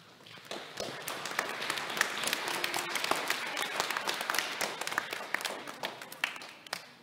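Church congregation applauding during Sunday Mass, a steady wave of many hands clapping that rises quickly and holds before thinning out at the end.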